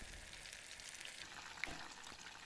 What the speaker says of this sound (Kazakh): енді қызып тұрған майда қуырып аламыз